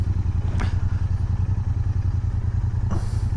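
Royal Enfield Interceptor 650 twin motorcycle engine running steadily nearby, a deep, even throbbing rumble with faint clatter and a couple of brief knocks.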